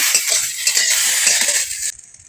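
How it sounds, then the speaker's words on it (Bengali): Pointed gourd (potol) frying in oil in a pan, a steady bright sizzle with scraping and stirring clinks, which drops off abruptly near the end. "পটলগুলো আমার প্রায় ভাজা হয়ে গেছে।"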